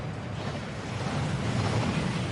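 The Thief's Downfall waterfall at Gringotts in Hogwarts Legacy rushes as a dense, steady roar of falling water, loud and continuous and swelling slightly toward the end, with no voices.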